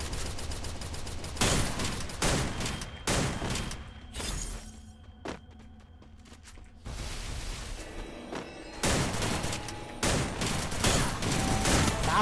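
Rapid bursts of gunfire and automatic weapon fire in a video game shooting match, loud and close, arriving in dense volleys with short lulls and sharp cracks between them.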